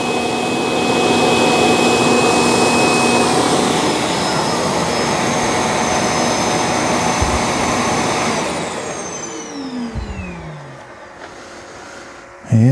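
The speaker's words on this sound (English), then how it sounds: "the Roborock is emptying everything out of its dustbin" A Roborock Q5+ robot vacuum's dock empties the dustbin with a loud, steady, close suction roar that runs about eight seconds, then winds down with falling whine tones and fades to quiet.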